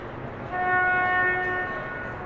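A deep horn sounds once, a sustained tonal blast lasting about a second over steady background rumble.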